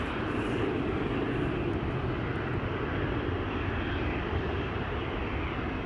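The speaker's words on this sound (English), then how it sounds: "So this is an Air France Embraer," An Air France Embraer jet operating for KLM at Schiphol drones in a steady, low rumbling roar of engine noise, moderately distant and unbroken, with no voices over it.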